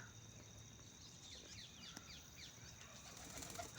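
Soft wing flaps of a white pigeon flutter amid scattered high chirps and a faint insect drone, all fairly quiet and distant.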